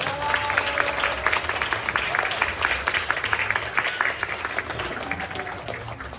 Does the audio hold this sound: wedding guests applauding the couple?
yes